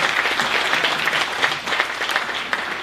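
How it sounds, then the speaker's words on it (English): A crowd claps steadily at a city State of the City gathering, dense and loud applause from start to finish with no let-up. "Let's give them another round of applause."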